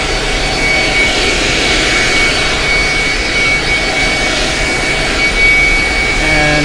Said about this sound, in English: You can put the extension on the shop vac just to make this a little bit easier.